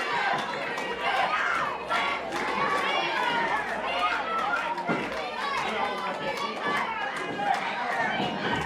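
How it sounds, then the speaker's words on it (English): A packed wrestling arena crowd chants and cheers for a wrestler, a dense, loud roar of voices with rhythmic chant surges throughout, and a commentator talking over it. "The Dreamer chants have started."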